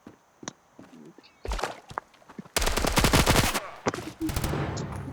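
Rapid automatic gunfire from the mobile shooter game Standoff 2, with scattered single shots early on, then a dense, loud sustained burst and further shots trailing off, with voices talking in between.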